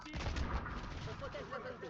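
Dense gunfire from a competitive shooter video game, a steady barrage of overlapping shots across the whole moment with some faint talk underneath.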